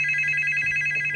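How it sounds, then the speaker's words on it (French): A telephone bell rings steadily and loudly throughout, its trilling tone close and continuous with no talk over it. "Y avait-tu un téléphone?"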